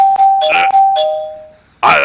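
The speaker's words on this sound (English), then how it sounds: "he's pressing the bell and it's not working" Doorbell pressed repeatedly, loud, close electronic chimes ringing in quick succession, one tone fading out before a final ring.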